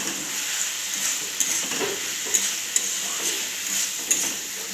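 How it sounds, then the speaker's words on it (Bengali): Boiled cabbage tipped into a pan of cooked spice mix and stirred, giving a steady sizzle with scraping and clinks of utensil against the pan. "এবার আমি সিদ্ধ করা বাঁধাকপিটা ঢেলে দিব।"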